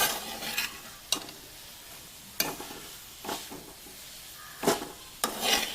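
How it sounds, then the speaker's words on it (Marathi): Radish leaves and radish being stirred and sautéed in a pan, with a spatula scraping and stirring in several short bursts over a soft background sizzle. "ही छान अशी मुळ्याची पानं आणि मुळा एकजीव होईस्तोपर्यंत व्यवस्थित परतून घ्या"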